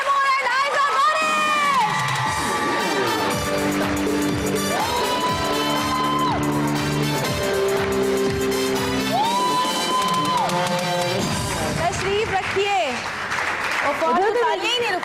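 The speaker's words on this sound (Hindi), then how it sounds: "तालियां ही नहीं रुक रही" A television studio audience claps and cheers loudly and continuously for a couple at a show, with whoops and shouting mixed in and music and voices over the crowd noise.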